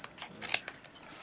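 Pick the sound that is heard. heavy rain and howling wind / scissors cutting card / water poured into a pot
scissors cutting card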